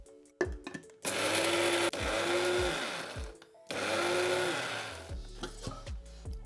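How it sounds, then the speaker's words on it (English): An electric blender grinds roasted Hyderabadi biryani spices in two loud whirring bursts, each spinning up and winding down, with rattling of the dry spices and short pauses between runs; no speech. "My spices have cooled down, so let's grind them."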